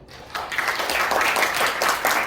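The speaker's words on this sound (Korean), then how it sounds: "박수로 맞아주시기 바랍니다." A crowd at a dental lecture breaks into steady applause, many hands clapping together close by, sustained for a couple of seconds.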